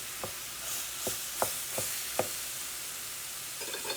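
Sauerkraut, partly frozen, cooking in a pan with a steady close sizzle, punctuated by a handful of sharp clacks from stirring at irregular intervals, no talk.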